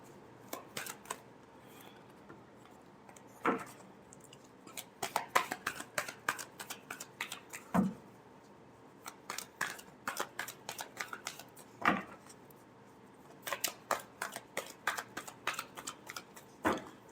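Tarot cards shuffled repeatedly by hand, giving bursts of crisp riffling flutters and soft taps in uneven clusters, close and fairly quiet with no talking.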